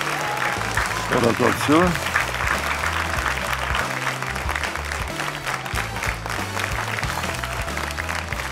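Steady, dense applause from a studio audience cheering young performers of patriotic songs on a televised talent show, continuous and loud, with a presenter speaking over it.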